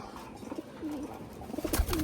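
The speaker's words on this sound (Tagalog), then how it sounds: "Yan mga ibon natin." Soft racing pigeon cooing, a few low warbling calls close by, with faint background noise and no talking.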